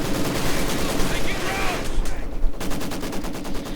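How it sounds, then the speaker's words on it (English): Maxim machine gun fire in the video game Company of Heroes 2, rapid repeated bursts amid layered battle gunfire, with a voice talking over the game sounds. "Maxim stopping most of Gruber's advances now"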